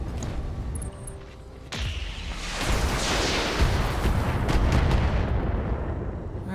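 Mech weapons firing in the Roguetech game, heavy booming artillery-like shots followed by a sustained loud roar of explosions and gunfire.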